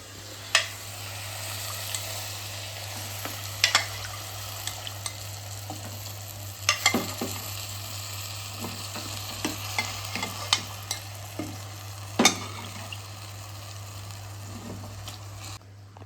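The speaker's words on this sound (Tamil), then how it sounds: "இப்போ இந்த மட்டனை வந்து அதில் சேர்க்க போகிறேன்." Cooked mutton is stirred through a simmering South Indian mutton curry, a quiet steady sizzle punctuated by scattered spoon scrapes and clicks at irregular intervals.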